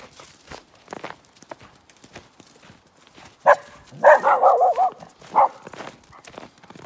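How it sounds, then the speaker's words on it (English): A dog barks in a short run of sharp yaps midway through, following scattered quiet clopping steps; fairly close and moderately loud. "He doesn't even know what he's barking at."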